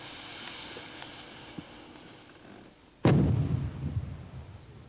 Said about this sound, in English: With that sort of mine, I wouldn't do anything except put a charge onto it and destroy it in place